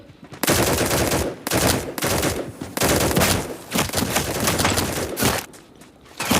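In the Battle Prime video game, gunfire comes in long, loud, dense bursts separated by brief gaps. Reload clicks may sit among the bursts. No voices are heard.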